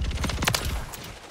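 Rapid gunfire from a weapon in Modern Warfare 3 right after a reload, a quick close burst of overlapping shots in a busy game mix.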